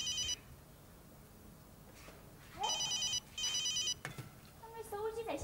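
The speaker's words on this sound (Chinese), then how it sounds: "哎，那手机在响哎。" A mobile phone rings in bursts of an electronic ringtone, a few rings with short gaps, while people talk nearby in a domestic comedy scene.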